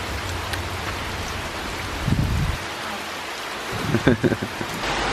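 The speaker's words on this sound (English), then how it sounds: "now we're here, caught out in the rain" Steady rain hisses down all around on a motorcycle trip between Prague and Linz, with a low rumble and a few brief murmured voices underneath.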